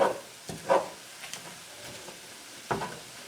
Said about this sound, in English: So I just added a few chopped onions in here as the meat's cooking.